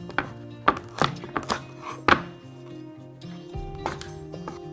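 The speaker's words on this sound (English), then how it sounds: "So we're going to cut it in half horizontally." A knife chops and thunks through a spaghetti squash on a cutting board, several sharp close cuts in the first couple of seconds, then a lower scraping pass.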